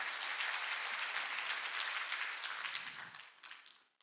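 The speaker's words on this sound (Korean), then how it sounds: "박수 쳐야겠어." Church congregation applauding during a Sunday sermon, a dense steady wash of many hands clapping that holds strongly before thinning out and fading toward the end.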